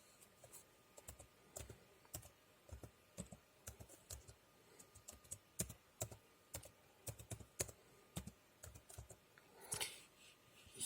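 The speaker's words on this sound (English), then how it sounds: "here you will enter your password" Steady typing on a computer keyboard while entering a password for a Tumblr sign-up, a brisk run of distinct close key clicks with short pauses, no voices.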